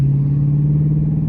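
Deep, steady rumble of a Dodge Charger R/T exhaust with mid mufflers deleted, resonators retained and 5-inch tips, idling in sport mode; a loud, continuous low drone without breaks.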